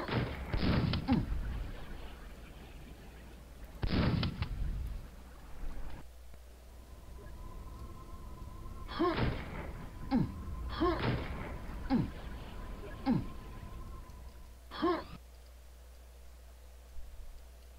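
Gunshots fired at objects in the video game Engineering Mania: several loud, punchy blasts with thudding impacts, spaced irregularly over a low background hum.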